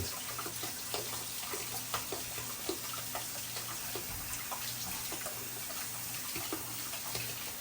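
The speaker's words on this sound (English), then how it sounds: "Go ahead and use some cold water to rinse it off." Cold water running from a tap to rinse a dyed Rubik's cube piece, a steady close splashing hiss with small clicks and taps throughout, no voices.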